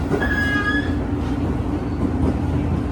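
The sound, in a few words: commuter train arriving at Cikarang station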